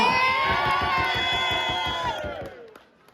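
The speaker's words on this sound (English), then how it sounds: "When I say ZOMA again, I get a bigger cheer." An audience at a business awards ceremony lets out a loud sustained cheer with shouts and whoops that holds for a couple of seconds, then cuts off into near silence.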